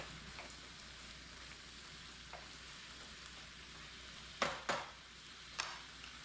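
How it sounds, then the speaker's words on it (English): Lemon zest being stirred into a sauce reducing over heat, a faint, quiet simmering sizzle with a few sharp clinks of a utensil against the pan late on. "Just throw our lemon zest in. Mix that in there."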